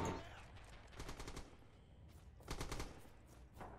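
Machine gun fire in the World War II shooter Red Orchestra 2, rattling out in short rapid bursts with pauses between them, fairly distant and faint.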